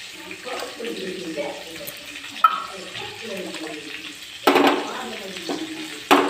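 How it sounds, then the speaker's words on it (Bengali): Vegetables fry in a pan on a home stove for a child's khichuri recipe, with a soft, steady sizzle and occasional stirring clatter, under a person's speech, with a couple of sharper bursts of sound. "এইদিকে আমার সবজিগুলো ভাজতে বসিয়েছি"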